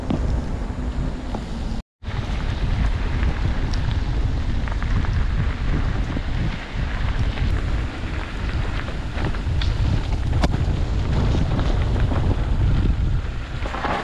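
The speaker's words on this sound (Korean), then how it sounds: "우중 라이딩 하게 된 미친 라이더들" Rain falling during a bicycle ride, a loud, steady wash of rain and wind rumble that continues throughout, broken by one brief dropout near the start.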